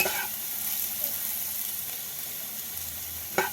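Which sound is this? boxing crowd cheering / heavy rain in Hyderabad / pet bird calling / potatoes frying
potatoes frying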